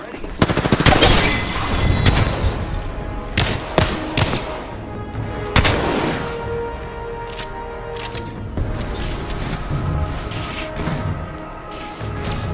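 Dense automatic gunfire in an Apex Legends match: rapid bursts and sharp overlapping shots crackle loudly and continuously, with a voice audible now and then under the shooting.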